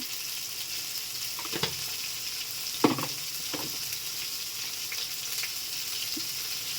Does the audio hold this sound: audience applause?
no